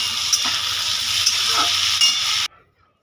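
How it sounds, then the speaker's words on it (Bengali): Potato and eggplant stir-fried in oil with chopped onion and panch phoron spices, a loud continuous sizzle with a few scraping stirs, cutting off abruptly near the end. "তারপর ওতে আলু বেগুন দিয়ে একটু নাড়াচাড়া করে নিই"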